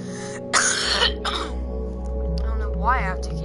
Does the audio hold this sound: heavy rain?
no